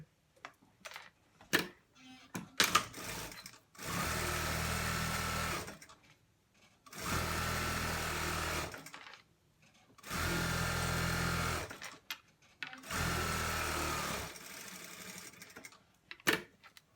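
A sewing machine stitches a fleece cord tube for a hoodie in four sustained bursts of steady whirring, each a couple of seconds long with quiet gaps and small handling clicks between.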